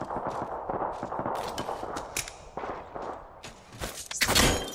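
Apex Legends battle royale firefight with rapid bursts of gunshots and machine-gun fire, sharp repeated cracks and thuds running the whole time, building to a loud blast near the end.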